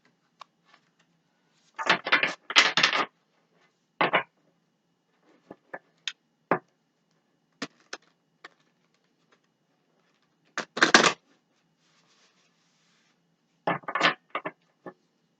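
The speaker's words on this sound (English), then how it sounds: "Oh, why did I shuffle this way?" A tarot card deck being shuffled by hand, heard as scattered dry riffles and soft card clicks in short irregular bursts separated by quiet pauses, close and fairly faint.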